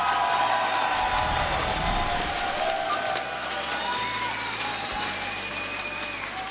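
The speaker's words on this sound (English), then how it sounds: "Like how everyone's screaming and cheering" A crowd at an esports event, the StarCraft finals of IPL 5, roars and cheers loudly and continuously, a dense wash of shouting and applause that fades slightly toward the end.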